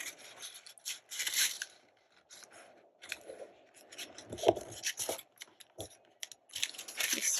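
Paper being folded and creased for an embossed envelope, with crisp rustles, rubs and small crinkles in short irregular bursts, close and fairly quiet.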